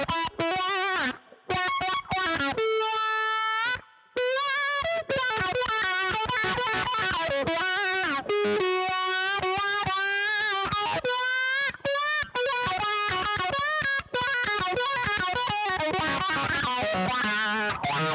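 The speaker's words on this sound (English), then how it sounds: "Definitely a snarly wah sound. A lot of sweep in it." Distorted electric guitar solo played through the wah pedal of a Boss ME-90 multi-effects unit, snarly and heavily swept, with fast melodic runs and sustained bends, loud and continuous with brief pauses.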